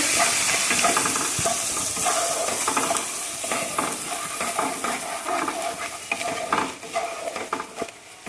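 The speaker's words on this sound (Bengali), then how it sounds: "এবার মশলাটাকে আমি ভালো করে কষিয়ে নেবো।" Spice paste with turmeric, cumin and coriander powder frying in a pan, giving a steady, close sizzle with repeated scraping and tapping from stirring, and no talk.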